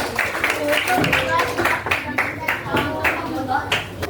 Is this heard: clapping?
yes